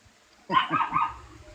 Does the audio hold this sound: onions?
no